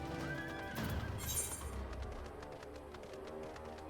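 A horse whinnies in the FFXIV Stormblood game world, a bright neigh followed by a steady clip-clop of hooves as it moves along, with no talk over it.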